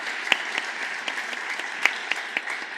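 An audience at a book presentation for author Unai Elorriaga claps steadily and warmly, a dense continuous applause with a few sharper individual claps standing out, no voices over it.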